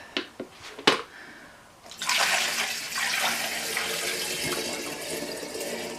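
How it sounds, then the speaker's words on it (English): Homemade rhubarb wine pours into a demijohn. A few light knocks come first, then a sustained, fairly close splashing rush of liquid runs on for about four seconds with no talking. "So this rhubarb wine now can go into the demijohn."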